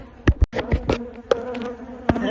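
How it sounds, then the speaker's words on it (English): A swarm of honey bees from an aggressive hive buzzes around a beekeeper, with droning hum and sharp close passes sweeping loudly past the microphone. "these bees are following me"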